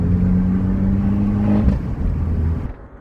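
A small Abarth 595 sports car engine revs steadily with a loud, low drone, then the pitch drops off and the engine settles as it fades near the end.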